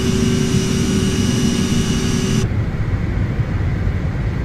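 Jet airliner engines roaring on the takeoff roll in an Aerosoft CRJ-550 flight simulator, a steady loud turbine drone with a high whine that cuts off partway, leaving a lower rumble.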